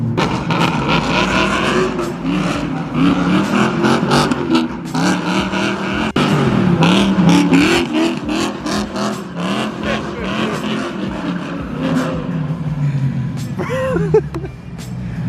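A loud, raspy BMW F80 M3 engine revs hard and repeatedly while drifting in the rain, with rising and falling pitch, punctuated by tire noise, continuous throughout with some brief shouting.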